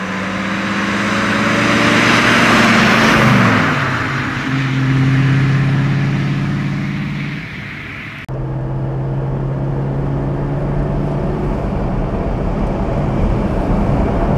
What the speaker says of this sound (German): jetzt sind wir gut 20 Kilometer gefahren mit unserem BMW 503 Cabriolet der zweiten Serie von 1959